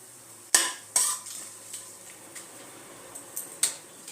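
Bay leaves and whole garam masala spices get a light stir in a pot over a quiet hiss, with about six sharp scrapes and clinks of a spoon against the metal, spaced irregularly.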